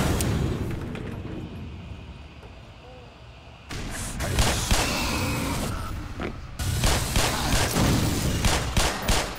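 Rapid gunfire from a weapon in the video game Black Mesa: Xen crackles in loud repeated bursts, pausing briefly before resuming, with booming impacts in a dense game soundscape.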